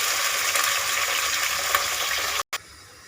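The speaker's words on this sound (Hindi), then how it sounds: "चिकन को थोड़ा सा हम भून लेंगे," Chicken fries in oil with fried onions in a pan, making a loud, steady sizzle close by that holds without a break and then cuts out abruptly near the end.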